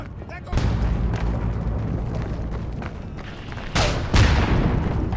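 Heavy gunfire and booming blasts fill a World War I mountain battle in Isonzo, with enemy machine gun fire among them. A dense, continuous roar is punctuated by sharp, louder bursts near the end.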